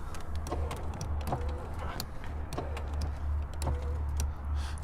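A faint power window motor whirs inside a 2000-2004 Dodge Dakota door, with a steady ratcheting click repeating about every second while the glass stays still, from a broken window cable.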